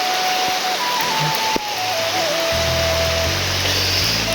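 Heavy rain pours onto a rooftop where water has pooled, a steady dense wash of noise with a brief thump partway through and low rumbling underneath, no voices.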